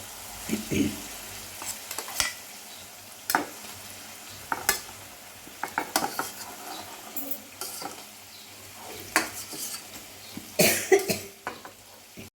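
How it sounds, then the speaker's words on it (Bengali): Potatoes and cauliflower frying in a pan for a Bengali fish-and-vegetable dish, with scattered clinks and scrapes of stirring over a low sizzle and a brief cough early on. "আর এখন আমি এই ভাজার সবজির মধ্যে আলুটা আগে দিয়ে দেব আলুগুলো আগে দিয়ে দিচ্ছি আলু ফুলকপি আগে দিচ্ছি"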